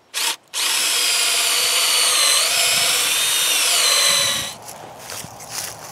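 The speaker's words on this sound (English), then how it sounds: "drill a 3 to 4 inch hole in the end of your cross brace" A power drill bores a 3 to 4 inch hole into the end of a wooden fence cross brace: a brief start, then a loud sustained whine with a small pitch dip, winding down near the end.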